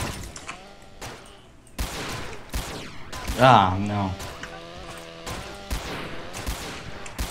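Gunfire against zombies in SA-MP, the multiplayer mod of GTA San Andreas: several sharp, loud game gunshots spaced a second or so apart, one followed by a crashing burst, with someone talking excitedly between them.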